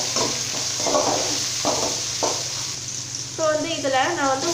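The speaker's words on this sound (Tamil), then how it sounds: "இந்த வெங்காயம் தக்காளி எல்லாமே சேர்த்து நல்லா வதக்கி விட்டுக்கலாங்க." Chopped onions and tomatoes sauté for sambar in a hot pan, with a constant sizzle and bursts of stirring scrapes. A voice is heard briefly near the end.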